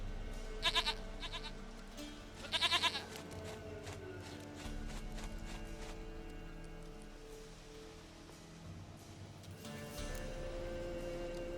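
A goat in the video game The Witcher 3: Wild Hunt gives two short, quavering bleats a couple of seconds apart, fairly close, over a quiet ambient background with faint shuffling.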